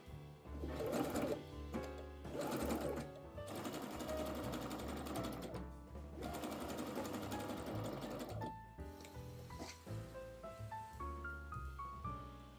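A sewing machine stitches a seam on a knit dress in steady, rapid bursts of mechanical chatter, pausing briefly between runs and ending in short, lighter stitches, with no talking.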